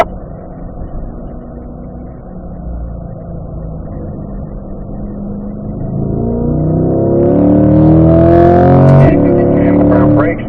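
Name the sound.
car driving on a track, braking and shifting gears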